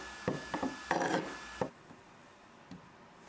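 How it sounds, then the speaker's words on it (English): Chisel end scraping saw-blade grooves off wood while making a bedside table: a handful of short, rough scraping strokes close up, followed by near silence with a faint tap. "I used the end of the chisel as a scraper to clean those up"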